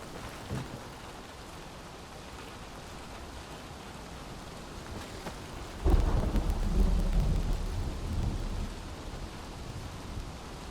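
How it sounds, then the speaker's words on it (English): Rain with rolling thunder in the video game Dying Light 2, a steady rain wash throughout, then a loud low rumble of thunder breaking near the middle and fading slowly. "is it starting to rain?"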